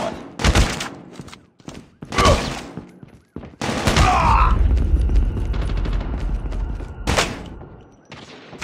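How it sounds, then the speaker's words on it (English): Heavy explosions and gunfire from a predator missile strike in Call of Duty: Mobile, several loud booming impacts followed by a sustained rumbling blast and another hit, mixed with shooting. "Friendly predator missile inbound."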